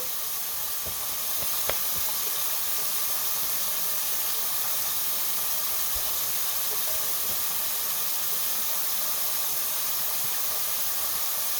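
A steady, even rush of water runs from a faucet throughout, fairly quiet and constant, with no voices.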